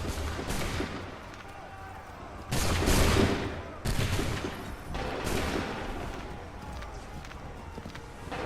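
A volley of gunfire cracks out on command during a British military engagement, with several loud, broad bursts of rifle shots in close succession over a continuous din of battlefield noise and movement.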